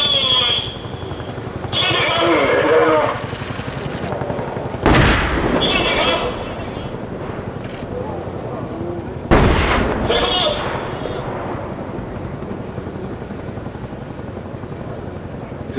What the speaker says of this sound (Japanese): 指向性散弾全開